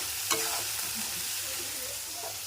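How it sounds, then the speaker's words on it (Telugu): Ginger paste fries in a pan for chicken curry, giving a steady, close sizzle with stirring scrapes and one sharp clack near the start. "ఈ అల్లం పేస్ట్ పచ్చివాసన పోయేదాకా వేయించుదాము."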